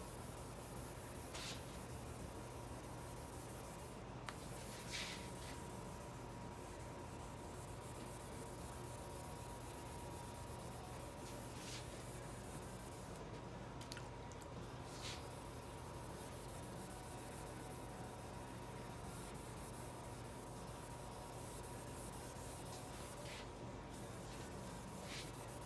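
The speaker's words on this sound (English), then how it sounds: "letting the sandpaper do its jobs." Hand wet sanding of 2K clear coat sprayed over Krylon paint on a speaker enclosure: a faint, steady rubbing hiss with light, brief scuffs from the sandpaper, continuous and quiet throughout.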